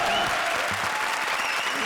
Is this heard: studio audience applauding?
yes